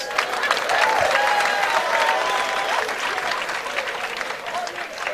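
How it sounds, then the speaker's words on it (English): Audience applauding together in a hall, a dense burst of clapping that swells at once and holds steady before tapering slightly, with a voice speaking over it. "Clap your hands, all you lions."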